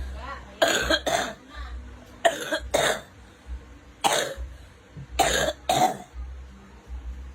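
Several short, raspy coughs come in spaced bursts, close by, with throaty clearing between them over a low background hum.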